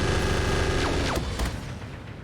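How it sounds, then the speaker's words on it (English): Thermobaric explosions and armor-piercing Gauss rifle fire in the RogueTech mech combat game, a dense burst of booming impacts and sharp shots layered over a constant rumbling battle din, loud throughout. "Thermobaric explosions and AP Gauss rifles."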